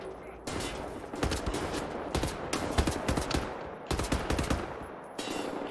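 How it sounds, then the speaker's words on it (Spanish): Rapid gunfire bursts in the shooter game Wolfenstein: The New Order, loud and near, several volleys of automatic shots with brief gaps between them. "Me están robando tiros, me están robando disparos."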